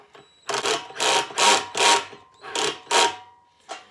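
Ratchet tightening a 13 mm bolt on the fuel tank of a Tao Tao F1 125cc ATV, heard as six close, loud bursts of rapid clicking in an even back-and-forth rhythm, with a short final burst.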